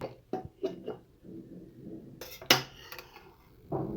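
A pressure cooker lid opened after cooking cluster beans at home: a few metallic clanks and scrapes, then one bright, sharp clink, close and moderately loud.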